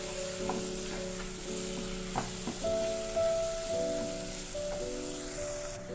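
Masala frying in a pan with chopped green onions over a low flame, a steady soft sizzle with occasional stirring scrapes and a faint tonal hum beneath.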